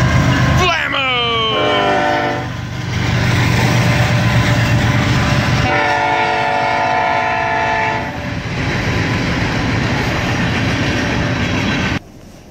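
A train runs along railway tracks, its loud horn blaring in long chords near the start and again midway over a constant heavy rumble of passing railcars, close by and sustained.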